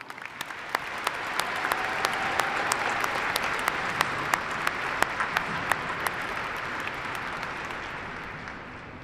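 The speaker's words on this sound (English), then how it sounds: "Let's give them one big round of applause." A large commencement audience applauds graduates, with sustained, even clapping over about nine seconds. Sharp, regular clicks stand out above the crowd noise.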